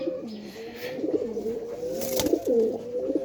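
A pigeon coos repeatedly in low, rolling phrases, close by, with a brief rustle partway through and no talking.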